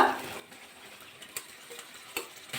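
Fried cauliflower is stirred into a cooked spice paste for a cauliflower malai curry, with a spoon scraping the pan and sharp taps and clicks at irregular intervals over a low, quiet background.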